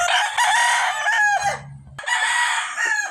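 A sweater gamecock rooster crowing close and loud, two full crows in quick succession.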